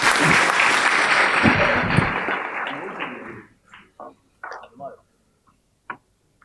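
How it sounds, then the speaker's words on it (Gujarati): Loud applause from a festival audience welcoming a Gujarati poet, dense clapping for about three seconds that fades into a few scattered claps. "ખૂબ જોરદાર તાળીઓ સાથે એમને આવકારીએ."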